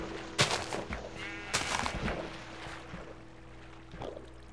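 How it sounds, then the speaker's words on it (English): Blocky sheep in the video game Minecraft bleat in a few short, bright calls near the start and middle, over a steady low game hum with faint background noise. "What are these sheep?"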